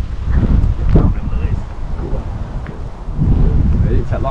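Wind gusting outdoors beside water while pike fishing, buffeting the microphone in rough, uneven surges that swell and fade over a few seconds.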